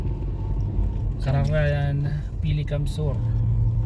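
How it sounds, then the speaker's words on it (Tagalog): Low road-traffic rumble of idling and creeping vehicles near a school in barangay Kararayan, steady and close, with people talking over it. "Traffic po mga kalingap. Ang traffic po ang barangay Kararayan"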